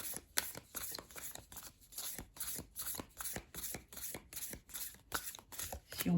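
A deck of oracle cards is shuffled by hand for a reading: close, quiet, rhythmic riffling bursts repeating steadily, with no voices.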